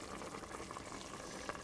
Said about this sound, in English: Stir and simmer the potatoes for about 5 minutes.